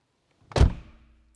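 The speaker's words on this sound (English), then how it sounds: "I'm going to close the door." A single solid car door of a BMW 520 (E28) slams shut nearby with a deep thunk, followed by a short fading rattle.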